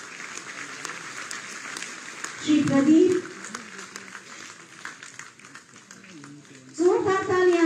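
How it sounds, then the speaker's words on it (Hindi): An audience at a government project inauguration in Lucknow applauds steadily beneath an announcer's amplified voice, with louder bursts of clapping swelling around the spoken name. "जोरदार तालियां, इनका मनोबल बढ़ेगा"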